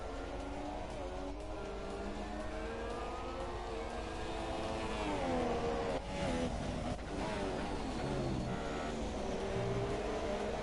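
Formula 1 car from the F1 2017 video game cornering hard at maximum speed during the Chinese Grand Prix, a continuous loud engine roar with shifting pitch as revs rise and fall through the turns.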